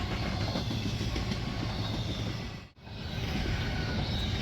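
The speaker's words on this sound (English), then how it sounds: "Train" Freight train rumbling steadily past up close, with a loud broadband roar that briefly drops into a short gap between cars before resuming.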